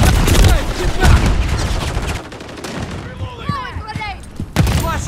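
In a Call of Duty: Modern Warfare 3 match on the Rust map, loud bursts of gunfire and a grenade blast fill the opening seconds, then fade to quieter scattered shots before another sharp burst near the end, with shouted voices over the noise.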